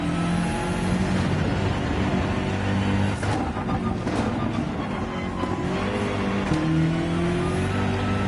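BMW race car in Gran Turismo 7 driving on a track, a steady engine drone with shifting pitch as it accelerates and eases off, continuous and fairly loud throughout with no talking.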